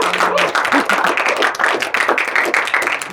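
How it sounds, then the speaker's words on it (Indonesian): A roomful of listeners claps together at the close of a music-notation lesson, a dense, steady patter of many hands lasting a few seconds with no voices over it. "tepuk tangan untuk semuanya"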